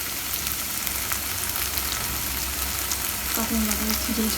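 Ginger and garlic paste sizzles steadily in a hot pan of onions while chicken jhal fry is being cooked. The hiss is continuous and close, and a brief faint voice comes in near the end.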